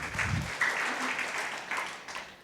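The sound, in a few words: church congregation applause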